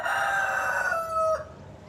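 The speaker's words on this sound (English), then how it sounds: "Every morning, this chicken comes to my window and crows like that every single morning." A rooster crows loudly right outside a window in the morning, one long drawn-out call that holds steady and then ends abruptly, close and clear over faint background hiss.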